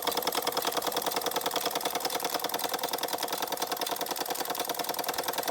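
Carette 677 toy steam engine driving a Carette 195/10 blacksmith hammer model, a fast, steady mechanical chatter and rapid tapping that runs continuously at low volume.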